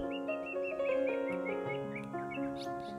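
A green leafbird (cucak ijo) sings a continuous run of bright, varied whistled phrases and chirps, close and loud, with no talking.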